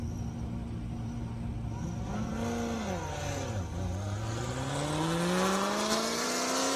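A Corvette ZR1 and a 1,500-horsepower GTR launch off an airstrip starting line, engines revving up and pitching across in a rising, sustained roar heard from a distance.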